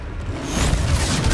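Confringo spell explosion in the video game Hogwarts Legacy during a troll fight, a loud, close boom that swells into a sustained roaring blast.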